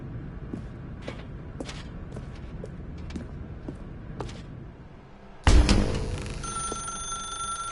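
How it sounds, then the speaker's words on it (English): A telephone in the Stanley Parable video game starts ringing loudly after a run of soft footsteps and thuds, its bright bell tone sustained to the end. "Now pick up the phone"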